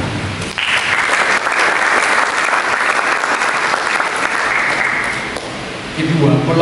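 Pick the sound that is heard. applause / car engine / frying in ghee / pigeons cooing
applause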